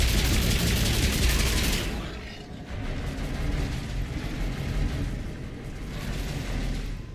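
Heavy gunfire from the Mass Effect 3 video game roars in a dense, continuous barrage, loudest at first, then dipping briefly before resuming.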